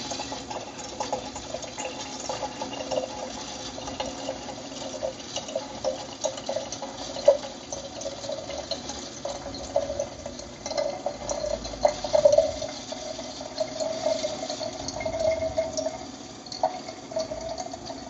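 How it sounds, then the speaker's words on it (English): Water pours steadily into a watering can while a rubber plant is being repotted, a continuous splashing fill with small drips and bumps, close and moderately quiet with no talk. "let's fill up my water can."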